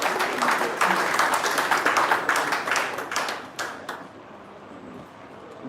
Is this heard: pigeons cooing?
no